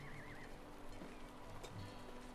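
Horse neighing in the online game The Lord of the Rings Online, a wavering whinny near the start followed by snorts and soft clip-clop, steady and close against a constant game ambience.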